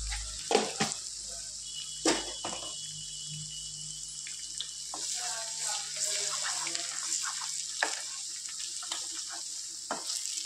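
Ginger garlic paste and turmeric fry in coconut oil for a chicken curry, a soft steady sizzle with occasional spoon clinks and scrapes close by, fairly quiet throughout.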